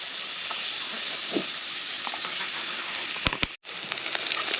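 Thickly sliced onions frying in oil in a pan, a steady close crackling sizzle with a few sharp pops and a brief clatter near the end.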